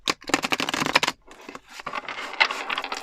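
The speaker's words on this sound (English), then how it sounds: "So one more shuffle," Close-up shuffling of a deck of tarot cards: a dense burst of rapid riffling clicks, a brief pause, then a second, softer round of shuffling, with no one speaking.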